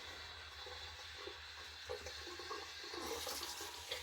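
Tap water running steadily while shaving, a soft continuous splashing stream, fairly faint and close, growing a little brighter and louder toward the end.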